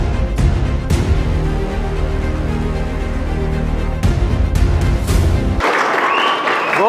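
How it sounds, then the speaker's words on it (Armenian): Applause from a school audience welcoming a teacher, a dense steady clatter of many hands filling the room for several seconds before cutting off into quieter noise near the end. "Ծափեր ենք տալի, ծափեր"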